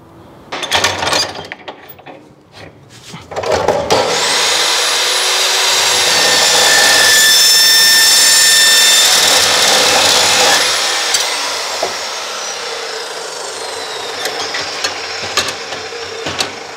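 A cut-off saw slices through metal at a 59-degree angle in an ironwork shop. A loud, steady, whining grind starts after a few seconds of quieter handling noise, holds for about seven seconds, then winds down.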